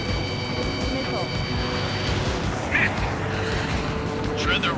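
A missile in the combat flight game Ace Combat 7, a dense roar of jet engines and explosive rumble with electronic warning tones, layered under voices talking.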